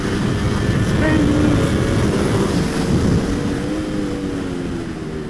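A Ducati Panigale V4 SP2 motorcycle engine under way on a ride, a loud continuous high-revving drone with shifting pitch, steady and then easing slightly, over rushing wind noise.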